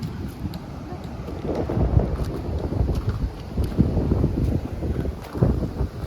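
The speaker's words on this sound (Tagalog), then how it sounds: "lakas ng hangin" Strong wind roars and buffets the microphone in continuous gusts, with water splashing beneath it, on the coast at Dingalan near the Sierra Madre, Philippines.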